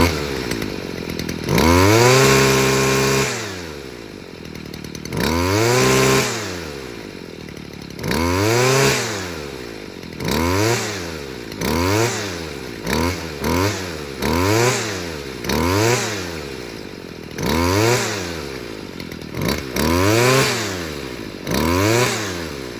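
A Stihl string trimmer's small two-stroke engine revs up and down repeatedly, loud and close, with rising and falling throttle sweeps and a rough, uneven idle between bursts, no talking.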